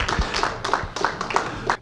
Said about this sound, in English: A round of applause for Dr. Efraim Zuroff.